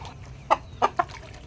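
A chicken gives three short clucks in quick succession, close by, over a quiet low background hum.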